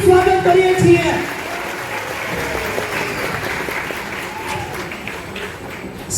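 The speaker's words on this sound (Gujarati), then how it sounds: "યુવક યુવતીઓનું તમામ 12 દિનની સભામાં જોરદાર તાળીથી હાર્દિક સ્વાગત કરીએ છીએ." Loud applause from an assembly welcoming young men and women at a devotional gathering, a dense steady clapping that starts strong and gradually thins, with talk underneath.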